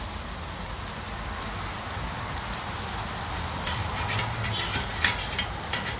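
Frozen breakfast burrito filling browns in a hot pan, a dense steady sizzle and crackle like rain, with a few louder pops and scrapes near the end.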